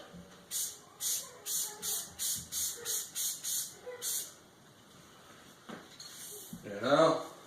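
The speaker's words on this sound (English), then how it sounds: "Trying not to get too much spray to hit the red." Spray painting a drill press during its restoration: about ten short aerosol bursts in an even rhythm, close and fairly loud, then a pause before someone speaks briefly at the end.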